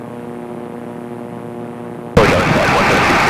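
Engine of a Naval Aircraft Factory N3N biplane powering up through a turn in flight, heard as a steady droning hum that suddenly swells into a loud, rushing roar of engine and wind.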